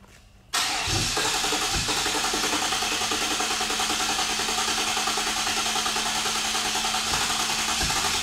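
A barn-find 1993 Chevrolet Camaro Z-28 fires up for the first time in about ten years, a sudden loud catch after a short quiet crank, then settling into a steady, rough, close idle that continues to the end.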